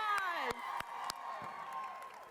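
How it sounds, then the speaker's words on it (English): A crowd cheers and whoops with scattered claps at a live talk event, voices rising in a loud, lively burst that slowly settles. "Let's give them another round of applause."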